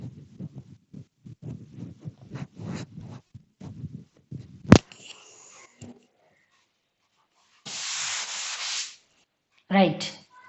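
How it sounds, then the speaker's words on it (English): A classroom board is wiped with a duster in bursts of scrubbing and rubbing strokes, soft rhythmic swipes early on, then a sharp knock and two longer, louder stretches of friction, with no talking. "let me rub the board and write on the board"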